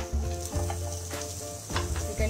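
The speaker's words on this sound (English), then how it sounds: "You can hear them sizzle" Onions hit a hot pot already holding dried red chilies and sizzle loudly up close, with a steady crackling fry and a few stirring scrapes.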